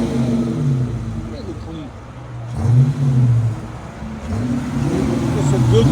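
A 2021 Chrysler 300 S with a 5.7L HEMI V8 and Carven R-Series exhaust rumbles close by, its note swelling through a couple of revs, while people talk over it almost the whole time.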